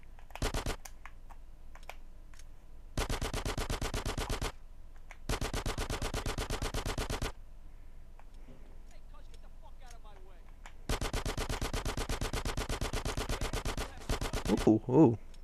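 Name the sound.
gunfire in video game GTA 5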